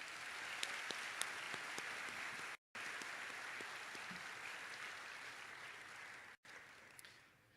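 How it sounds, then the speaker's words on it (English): Warm, steady applause from a graduation ceremony audience for the musicians and vocalists, a continuous crowd of clapping hands heard at a distance, faint and evenly sustained with brief dropouts. "Please help me in giving them a warm round of applause."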